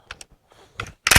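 Bolt of a Swedish Hakim rifle being worked, a few sharp metallic clicks followed by a louder clack as the bolt is drawn back, close and alone.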